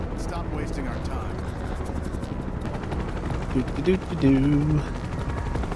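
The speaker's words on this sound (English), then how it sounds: "I feel like the helicopter should have a pretty good view of us." A helicopter hovers in the Final Fantasy VII Rebirth game, its rotor chopping in a fast, fluttering pulse over a low rumble. A person speaks briefly over it near the end.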